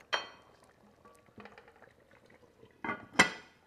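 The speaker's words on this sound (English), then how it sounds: "So I'm just gonna add my potatoes on the side." Potatoes go into a pot roast simmering in a pot, with a clatter of utensils against cookware at the start and two louder clunks near the end, quiet simmering and scraping between.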